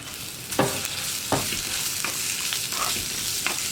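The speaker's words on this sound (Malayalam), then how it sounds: "സവോള ഒന്ന് ഒരുപാട് അങ്ങോട്ട് വഴറ്റിയെടുക്കണ്ട കേട്ടോ. ഒന്ന് ട്രാൻസ്പെറൻ്റായി വരുന്നത് വരെ ഒന്ന് ഇളക്കി കൊടുക്കുക." Sliced onion and green chili sizzling softly in a pan for a potato stew, with several distinct scrapes of a spoon stirring them at roughly regular intervals.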